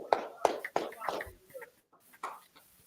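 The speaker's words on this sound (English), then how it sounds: "let's clap it up" A small group claps at a brotherhood class gathering, with a few sharp, uneven claps that trail off quickly in a quiet room.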